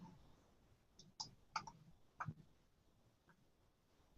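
A handful of sharp, quiet computer mouse clicks spaced irregularly, close by in a silent room, with a louder click at the very end.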